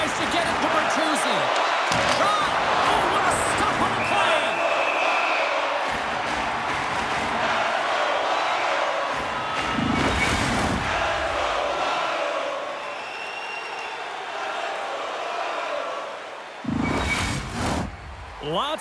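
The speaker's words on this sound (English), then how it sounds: "You can feel the energy in this crowd." Hockey arena crowd roaring in NHL 25 during a playoff game between the Minnesota Wild and Chicago Blackhawks, a loud sustained cheer swelling and fading through the whole stretch, with brief sharp bursts near the end and commentary talk woven in.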